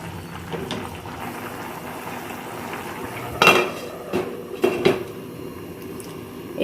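A metal lid set onto a cooking pot of pilaf, a couple of close clanks around the middle followed by a softer rattle over a quiet kitchen background.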